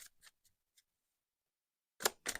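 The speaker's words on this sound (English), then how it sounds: "Did you see the deck even slow down the shuffle?" Tarot card deck being shuffled by hand, a few quick papery riffles and taps, then a pause and two louder shuffling bursts close to the mic.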